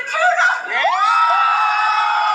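A wrestling event crowd yells and screams in a shrill burst with rising whoops, loud and sustained to the end.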